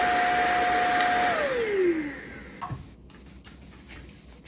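Klarpul 580W cordless stick vacuum cleaner running close by with a steady whirring hum and airflow hiss, a motor whine that drops in pitch as it powers down, followed by light handling clicks.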